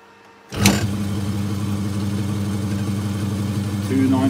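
A lathe running at its lowest non-back-gear speed, around 300 RPM, for hard drilling with the tailstock: a steady low mechanical hum and whir starts abruptly after a short quiet moment and holds evenly, with a faint tonal whine near the end.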